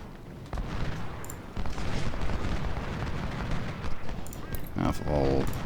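Massed musket volleys and scattered gunfire from a Civil War battle in Ultimate General: Civil War, a continuous crackling fusillade under a steady battlefield din.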